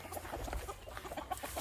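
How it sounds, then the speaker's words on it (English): Gamefowl roosters kept in small cages cluck softly and faintly with low, scattered calls in a quiet outdoor setting; no talking is heard. "These roosters right down in here"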